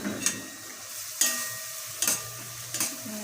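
Garlic and peas sizzle in a hot pan while a spoon scrapes and stirs them four times in a loose rhythm, each stroke a short close clatter over a soft steady frying hiss.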